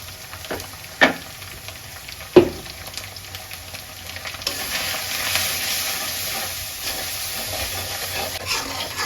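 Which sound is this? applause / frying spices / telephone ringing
frying spices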